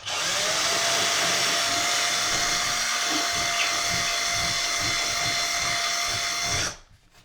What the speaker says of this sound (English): I am going to drill a hole right here where I marked.